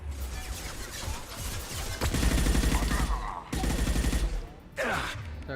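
Rapid gunfire from Mass Effect 2 crackles in several bursts, moderately quiet and steady, with a brief sharper burst near the end.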